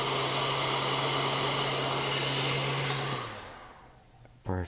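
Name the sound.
heat applied to phone skin over Galaxy S5 camera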